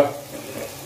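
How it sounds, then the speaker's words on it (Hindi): Masala for fish pulao fries in a pan over medium heat while a spoon stirs it, a brief close scrape followed by a soft, steady sizzle. "1 मिनट अच्छे से फ्राई कर लेंगे, भून लेंगे मीडियम आंच में"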